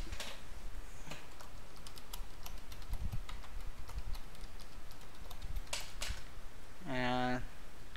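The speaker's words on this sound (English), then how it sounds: "I'm going to type my single sign-on password here" Soft, rapid keystrokes on a computer keyboard tap out a password, irregular light clicks under a steady background hiss, closing with a brief rising electronic tone.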